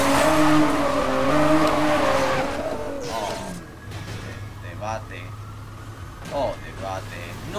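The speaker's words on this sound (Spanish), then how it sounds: "usé el derrape" A car drifting in the Need for Speed Most Wanted video game, its tires squealing with engine noise beneath, heard under a person talking over the game audio.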